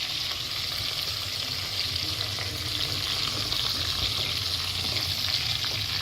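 Bay leaf sizzles in hot oil with garlic pieces in a pan for a vegetable curry, a steady close frying hiss with faint crackles throughout and no talking.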